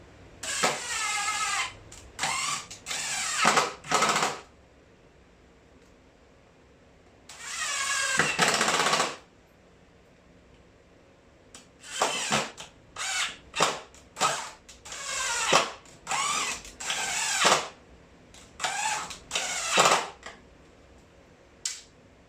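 Power drill boring into a wooden door frame in a workshop, a series of short, loud whirring bursts of varying length separated by quiet pauses, some bursts rising in pitch as the bit spins up.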